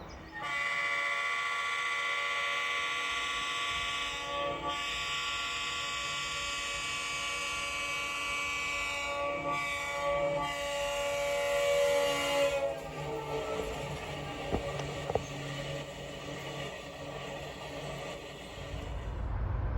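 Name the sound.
CSX westbound train approaching with horn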